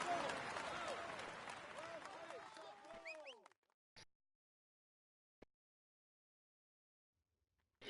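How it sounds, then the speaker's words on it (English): Enthusiastic applause with whistles and cheers from a crowd, fading out after a few seconds, followed by a couple of isolated claps in near silence. "Come on, let's applaud him once more."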